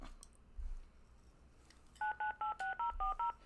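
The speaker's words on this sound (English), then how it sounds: "They put the phone number in before I can even type it up." A telephone keypad sends a phone number as DTMF tones: eight short, evenly spaced beeps in quick rhythm, clear and close, after a quiet stretch with a few faint clicks.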